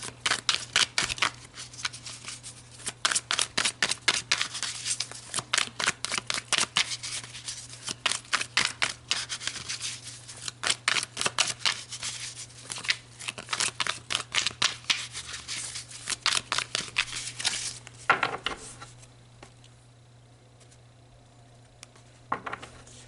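Tarot cards are shuffled and pulled in a long run of quick, soft riffling flicks with a steady rhythm, fairly close and alone, ending in a few seconds of near quiet.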